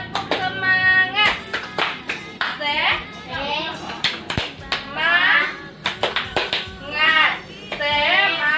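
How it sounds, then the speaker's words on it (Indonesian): Children in a classroom perform a rhythmic 'tepuk semangat' clapping chant, sharp claps in patterned bursts alternating with their chanted voices, close and lively. "Nah, kita tepuk semangat dulu ya."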